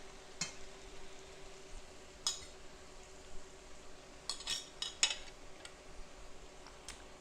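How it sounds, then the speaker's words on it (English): Quiet metal spoon clinks and light scrapes against a bowl as maque choux is scooped up, a few sparse taps over a low room hum. "So I'm just going to spoon a little up."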